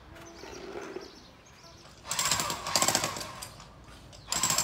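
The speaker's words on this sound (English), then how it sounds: "Now the guys are using a jackhammer to remove some cement from what used to be a driveway at the back of a lot." A jackhammer breaks up an old cement driveway at a house build site in Loei, Thailand, pounding in loud rapid bursts after a quieter stretch, with one burst starting again near the end.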